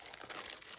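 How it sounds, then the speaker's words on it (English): Ziploc plastic bag crinkling and rustling as it is handled up close, a continuous dense crackle lasting under a second with no voice. "I happen to have this Ziploc plastic bag, so I stored in that now."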